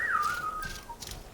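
A person whistles a single sustained tone that glides downward and then holds, clear and close, with faint hiss behind it while playing Horizon Forbidden West.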